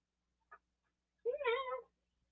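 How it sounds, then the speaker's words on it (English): A house cat meows once, a short close cry after a faint earlier chirp, in a quiet indoor room with no talking. "I'm not picking you up, cat."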